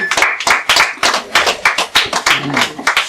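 A group claps hands in a quick, steady rhythm, loud and close, like rhythmic clapping during worship at an orphanage visit, with voices mixed in.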